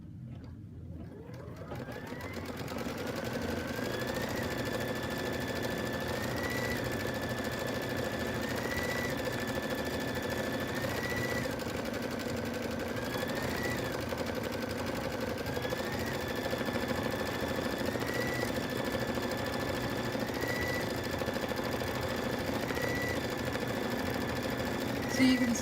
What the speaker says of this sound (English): I need to press the green button, and it starts stitching.